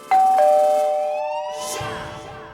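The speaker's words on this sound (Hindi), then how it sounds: "घंटी बजी" A doorbell sounds two bright chime tones close by, which ring out and fade slowly over a couple of seconds.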